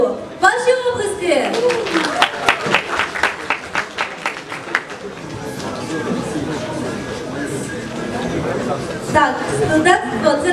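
A student talent contest audience claps in a brief rhythmic burst, the claps merging into a broad wash of applause mixed with crowd chatter and voices, and the clapping swells again near the end.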